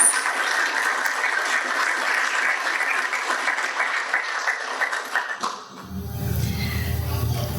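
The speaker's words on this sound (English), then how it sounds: "let's give them a round of applause" An audience at a graduation ceremony applauds loudly and steadily in a dense wash of clapping, which then stops abruptly as low room rumble takes over.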